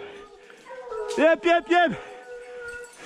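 Hunting dogs on a wild boar hunt give a short run of three yelping, howl-like barks close by, with a hunter's voice calling over them.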